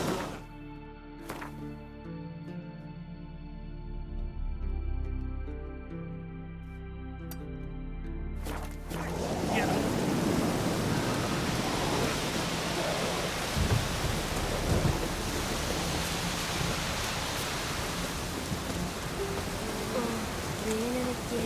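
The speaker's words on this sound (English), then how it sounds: "Raining again." Heavy rain and rolling thunder in the video game The Witcher 3 start after a quieter musical stretch, then build into a dense, steady downpour with low rumbles that lasts the rest of the stretch.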